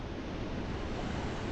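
Water washes steadily over shells on a sandy beach shore at Fort Desoto, a continuous close wash with a breezy rush and no talk.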